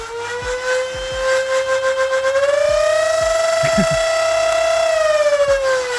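A toy blaster's small motor hums at a high steady pitch, rising slightly as it speeds up, with light mechanical clicks beneath.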